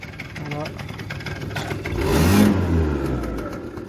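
A moped with a worn-out, dead exhaust pipe idles then revs up, the engine note rising to a rough, loud blare and settling back, with people talking over it.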